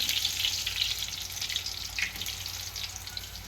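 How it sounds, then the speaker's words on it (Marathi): Bhaji fritters fry in hot oil, giving a steady, close hiss and crackle that runs unbroken without any voices. "तुम्ही पण खा असं गरम गरम भजे करून असे कडक भाजून द्यायचे"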